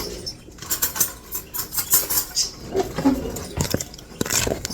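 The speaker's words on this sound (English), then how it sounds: "I'm going to take 2 forks and cut into this anyway, instead of just trying to use a spoon" Two forks scrape and clink against a bowl while cutting butter into flour for bread dough, giving a busy run of light metallic taps and scratches throughout with no talk.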